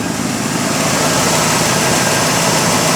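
A 1985 Chevrolet K5 Blazer engine with glass pack exhaust idles loudly and close by, a dense, rough, steady exhaust rumble with no voices.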